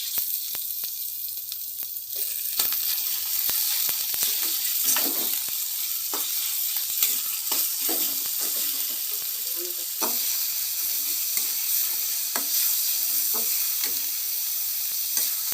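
Chopped tomatoes sizzle and fry in a hot pan for an Indian potol dish with meat stuffing, a constant bright crackle broken by repeated stirring scrapes, close and steady.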